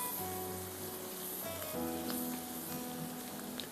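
Chopped tomatoes with salt, pepper and turmeric hit a hot pan, giving a steady soft sizzle and frying crackle at low level, with a faint hum underneath and no talk.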